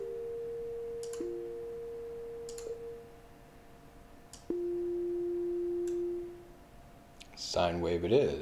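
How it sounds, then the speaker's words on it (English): A synthesized sine wave tone generated in JavaScript through a musical web interface plays pure, smooth held notes that shift pitch, with faint clicks between them, followed by a short burst of voice and noise at the end. "Sine wave it is."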